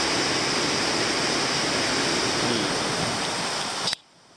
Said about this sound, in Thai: อันนี้เป็นน้ำตกนะครับผม